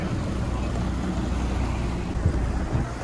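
Steady rumble of a pontoon boat motoring across water, with wind buffeting the microphone and the wash of water throughout.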